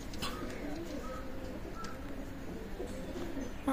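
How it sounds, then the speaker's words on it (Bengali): Teddy pigeons of Oman bloodline coo softly at a loft, a low steady murmur of several birds with faint chirps, moderately distant and continuous. "ওমান ব্লাড লাইনের টেডি কবুতর"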